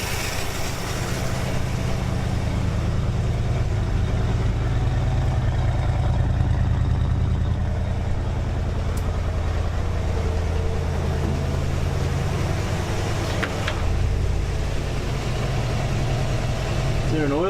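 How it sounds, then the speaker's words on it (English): Engine of a 1952 Ford idling on its own, a steady loud low rumble that runs evenly throughout with a faint metallic tick near the end. "It's just sitting there, idling now on its own."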